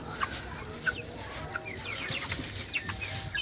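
Broiler chickens clucking close by, several short bright clucks and calls scattered over a low farmyard background.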